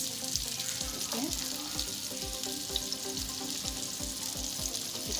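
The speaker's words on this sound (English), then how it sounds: "So I'm going to let the onion saute for some minutes" Chopped onion sautéing in a frying pan gives a steady, close sizzle with soft crackle and occasional stirring, and it runs continuously with no talk while cooking fish on a stovetop.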